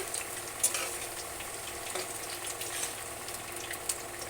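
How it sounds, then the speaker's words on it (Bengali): Potatoes fry golden in hot oil, giving a soft, steady sizzle with a few faint clinks of the pan or ladle, heard alone and fairly quiet. "দেখো আমার আলুগুলো এইভাবে গোল্ডেন করে ভাজা হয়ে গেছে।"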